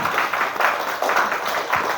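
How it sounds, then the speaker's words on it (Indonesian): An audience claps for a presenter at a session, a steady dense patter of many hands lasting about two seconds. "Tepuk tangan untuk narasumber kita."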